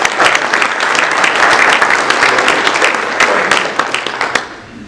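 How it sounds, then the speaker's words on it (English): Dense, loud applause from the audience at a panel discussion on salmon and steelhead recovery, steady throughout and tapering off at the very end. "How about another round of applause for the"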